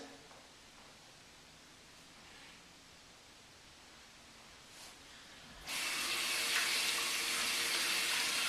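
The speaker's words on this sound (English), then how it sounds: "So I first put the water on manually" A tap is turned on for wet shaving with a dual-head safety razor, after a quiet room the water suddenly gushes in a loud, steady hiss that continues to the end.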